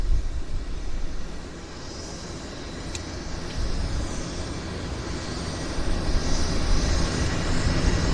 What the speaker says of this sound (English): we'll just go grab our WestJet, who's turning onto the active right there